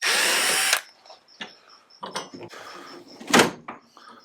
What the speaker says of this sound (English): using a T30 Torx, I'm going to go ahead and remove this Torx right here on either side